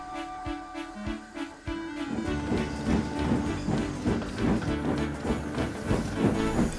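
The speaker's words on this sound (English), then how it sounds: "He pulled and puffed as hard as he could" A steam locomotive hauling trucks uphill, with sharp rhythmic hissing puffs first, then a denser chugging of exhaust beats and clattering wagons building in loudness.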